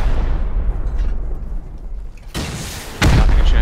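Rockets explode during a raid in the video game Rust, heavy booms over rumbling debris, and a louder blast lands near the end.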